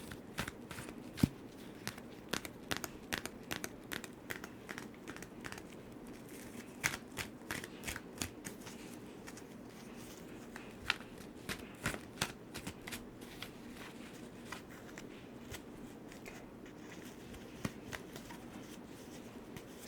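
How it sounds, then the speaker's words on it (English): Tarot cards shuffled by hand for a card reading, a long run of soft, irregular riffling and slapping flicks, close and quiet, with no talking. "Just going to shuffle it for a bit."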